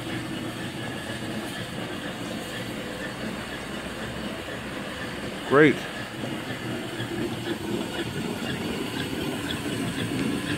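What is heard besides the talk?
2.5-inch three-chime steam whistle on a steam donkey boiler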